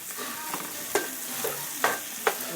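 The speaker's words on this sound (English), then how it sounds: "So now what we do is we're adding our shredded plantain." Shredded plantain being mixed into a sizzling pot for Ecuadorian seafood soup, with steady frying hiss underneath and several sharp spoon scrapes and knocks at irregular intervals, close up and without voices.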